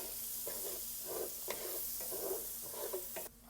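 Chopped vegetables sizzle and crackle in a hot deglazed pan for a Cajun shrimp and grits dish, with a steady frying hiss broken by repeated scraping strokes of a spoon stirring them about, close and moderately loud.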